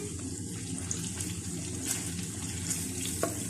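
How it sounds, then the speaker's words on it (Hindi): Mutton chops fry in oil with a continuous, close bubbling sizzle and a few sharper pops and clinks scattered through it, with no one talking. "फ्रेंड्स, ये दोनों साइडों से फ्राई हो चुकी है।"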